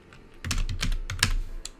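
Keys clatter on a computer keyboard as a first and last name is typed, a quick burst of close, crisp clicks in an uneven rhythm.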